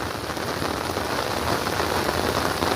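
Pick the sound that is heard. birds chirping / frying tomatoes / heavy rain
heavy rain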